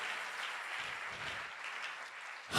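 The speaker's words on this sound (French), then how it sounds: "Si tu m'as compris, acclame, acclame, acclame." A church congregation applauding at an evening service, a steady, fairly quiet wash of clapping that holds for a couple of seconds without a break.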